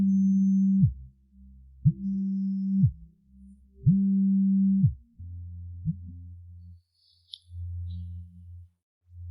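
A phone rings in repeated electronic tone bursts, three long even pulses followed by shorter lower buzzes, fairly faint with quiet gaps between.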